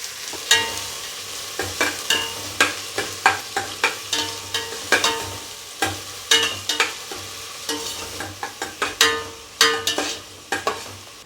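Onions and green chilies frying in oil with whole spices over a low flame for a Telangana-style goat kidney curry, with repeated sharp scraping stirs over a steady sizzle, close and fairly loud, no talking.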